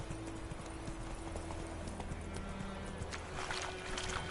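Hooves of the horse in The Witcher 3 video game clip-clop in a steady galloping rhythm, loud and continuous over a low game ambience, with no talk heard.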